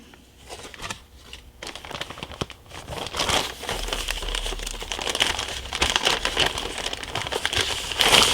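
Corrugated craft paper is crinkled and handled up close, a steady dry rustling and crackling that builds in density after a few quieter seconds, with no voices.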